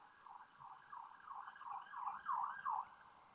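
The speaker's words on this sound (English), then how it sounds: "I'll let the siren go past" A passing emergency vehicle's siren wails in a steady, repeating rise and fall, faint and distant at first and swelling louder as it draws near.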